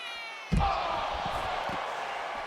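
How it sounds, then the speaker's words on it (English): Crowd noise in the WWE 2K25 wrestling video game swells suddenly after a hard slam-like impact, then holds as a steady roar of reaction through to the end. "I think the crowd's just reacting."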